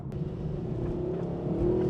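A 2013 Mercedes-Benz SLS AMG GT coupe accelerates on the Streets of Willow track, its engine a steady, fairly faint drone that builds slightly toward the end.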